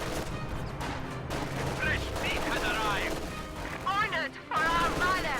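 Gunfire in a competitive video game match includes a machine gun, with rapid bursts and booms layered over game effects while a commentator talks throughout.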